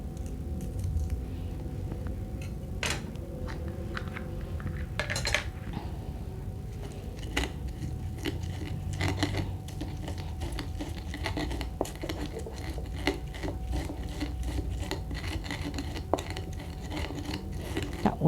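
Shallots, sugar and salt are ground with a stone mortar and pestle for sambal, a continuous close scraping and rubbing with irregular sharp knocks of stone on stone.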